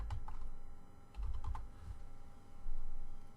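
Short bursts of fingers tapping a computer keyboard, quick clustered clicks in two or three runs with pauses between, close and moderately quiet against a low room hum.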